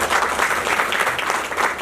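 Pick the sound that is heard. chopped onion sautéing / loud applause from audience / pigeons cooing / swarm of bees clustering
loud applause from audience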